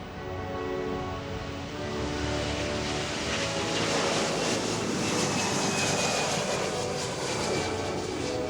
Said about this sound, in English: Let's watch as the C-17 takes to the skies here for the West Great